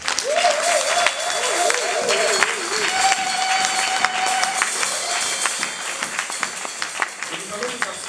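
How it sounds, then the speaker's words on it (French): Loud, continuous clapping from a church congregation acclaiming the Lord, joined by voices raised in cheers and ululation, runs throughout. "Quand le peuple de Dieu acclame très fort le Seigneur."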